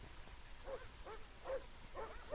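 Sled dogs with a 1946-47 U.S. Navy Antarctic expedition give several short barks and yips in an uneven rhythm, moderately distant, over a faint steady background hiss.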